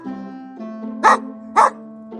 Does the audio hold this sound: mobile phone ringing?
no